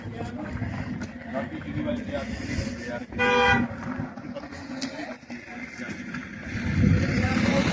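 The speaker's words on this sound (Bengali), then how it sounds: "মনে হচ্ছে আমাদের গাড়ির সিগন্যাল দিয়েছে গাড়ি আবার ছাড়বে" A vehicle horn sounds on a mountain road near the Atal Tunnel and Sissu Valley, a single short honk midway through, heard over wind, engine rumble and people talking nearby.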